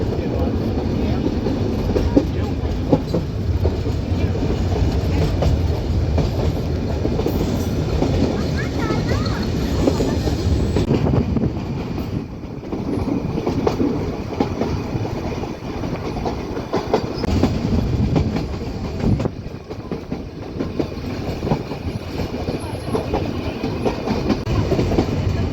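A hill railway train near Ooty runs past tea gardens above a valley, its steady loud rumble and rhythmic clickety-clack of wheels continuing throughout, heard from on board.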